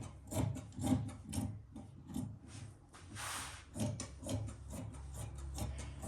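Scissors cut through salwar fabric in a series of quiet, close, rhythmic crunching snips and rubbing strokes against a table, with no talking.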